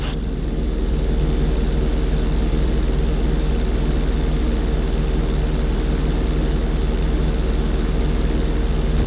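A propeller airplane engine drones steadily and loudly throughout, a constant low rumble with a faint whine above it, as the plane rolls down a runway for takeoff in Grand Theft Auto 5.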